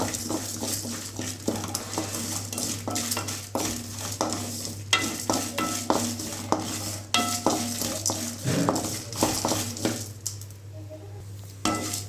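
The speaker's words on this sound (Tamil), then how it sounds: "கடலைப்பருப்பு, உளுத்தப்பருப்பு எல்லாத்தையும் சேர்த்து நல்லா வறுத்து பார்க்கலாம்" Chana dal and urad dal roast in a pan while being stirred, giving a steady close scraping and rattling with light sizzle and a constant low hum, then a brief quieter stretch near the end; no one speaks.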